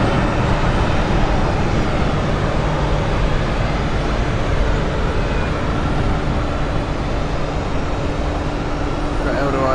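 A jet airliner takes off at Zurich Airport, its engine roar a steady, broad rumble that fills the whole stretch at constant loudness from a distance, with no talk over it.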